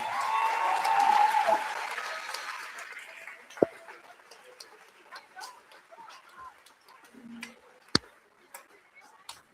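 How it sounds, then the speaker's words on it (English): An audience claps at a moving-up ceremony at Somersfield Academy. The applause is dense for the first few seconds, then fades to scattered claps and occasional sharp knocks in a quieter room. "Next up, big round of applause for Juliana Tonbon."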